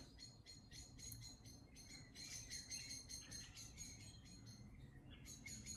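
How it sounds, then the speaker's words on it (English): Small birds chirp outdoors in a quick, repeated series of high tweets over a soft background hiss, all quite faint and distant, with no talking. "Can you hear the birds?"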